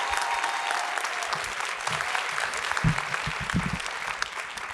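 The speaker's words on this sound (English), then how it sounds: "another round of applause for our keynote speaker," An audience at a scholarship awards celebration claps for the keynote speaker, steady dense applause from a roomful of people lasting throughout.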